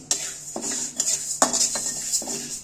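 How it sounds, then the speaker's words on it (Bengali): Moong dal dry-roasting in a pot with no oil for chicken khichdi, a spoon scraping and clinking against the metal in several separate strokes, close and fairly loud with a faint hiss between. "আস্তে আস্তে করে নাড়াচাড়া করে ভেজে নিতে হবে একটু শুধুই ভাববো শুকনো তেল দেবো না"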